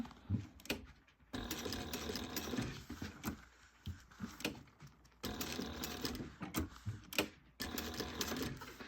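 Sewing machine stitching the gusset of a fabric bag, with rapid mechanical needle chatter in several bursts separated by brief pauses, fairly close and moderately loud.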